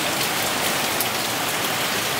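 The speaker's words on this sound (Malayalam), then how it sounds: "നല്ല മഴ ഉണ്ട്" Heavy rain falls on a balcony during a stormy day, a steady dense hiss of drops striking surfaces that continues evenly throughout, with no voices.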